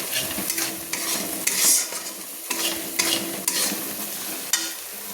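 Spice masala for chicken do pyaza stir-fried in a pan over a low gas flame, with a steady sizzle broken by repeated spatula scrapes and clacks against the pan at an uneven rhythm, close by and with no voices.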